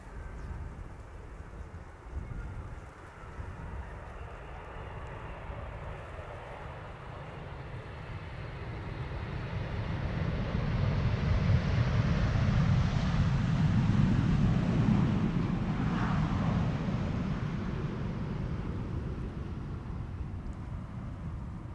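A Boeing 777-200, 25 years old with first flight in October 1999, lands at Amsterdam Schiphol on runway 18R Polderbaan in a crosswind, its jet roar swelling from a distant rumble to a loud close pass and then slowly fading.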